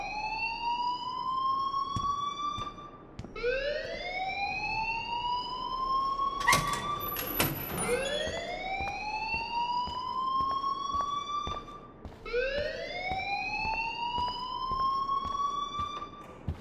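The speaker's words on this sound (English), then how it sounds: "please turn off that alarm since that's your job." A school fire alarm from the video game Life Is Strange wails in repeated rising electronic sweeps, each lasting a few seconds, with a brief sharp clatter and tone burst partway through; steady and fairly loud, no talking.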